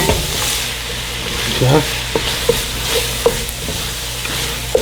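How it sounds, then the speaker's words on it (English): Seasoning is stirred into a pot of gumbo over a low, steady simmering sizzle, with intermittent spoon taps and scrapes against the pot; a voice speaks briefly. "We want to stir that in right there."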